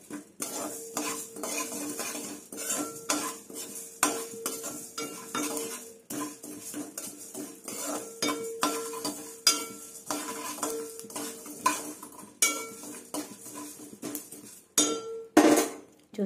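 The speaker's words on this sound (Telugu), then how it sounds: "చూడండి చిటపట్లాడుతున్నాయి." Sesame and mustard seeds frying in hot oil for a gongura chutney, crackling and popping in dense irregular bursts, mixed with the clink of a spoon against the pan and a few louder pops near the end.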